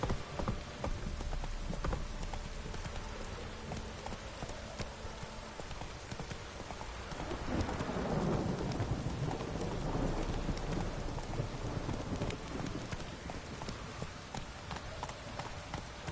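Steady rain pouring across an open-world fantasy landscape in The Witcher 3: Wild Hunt, a loud continuous hiss with low rumbling swelling in the middle, while a horse's hooves clop faintly along.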